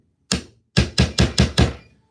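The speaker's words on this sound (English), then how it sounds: "I bang my fingers so many times with the hammer sometimes" A hammer drives a pin out of the head of a hickory golf club: one sharp metallic strike, a short pause, then five quick, evenly spaced blows, all loud and close.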